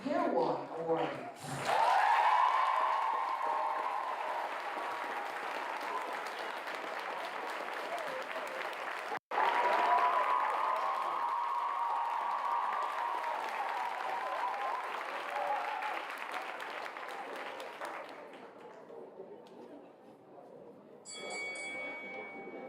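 Sustained audience applause at an awards ceremony, a dense roar of many hands clapping that swells, holds for about fifteen seconds, then tapers off, with a brief sharp click midway and some faint background voices.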